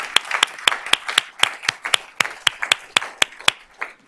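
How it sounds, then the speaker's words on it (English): Applause at a school board of trustees meeting, with sharp, rhythmic individual claps from a small group, close by and fairly loud. "Let's give her a round of applause."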